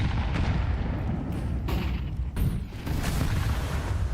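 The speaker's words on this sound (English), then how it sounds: "Oh, taking a bit of a nade to the feet there." A grenade going off at a player's feet in Counter-Strike 2 during a PGL Bucharest playoff match, a dense roaring burst lost inside continuous loud in-game noise of gunfire and rumble.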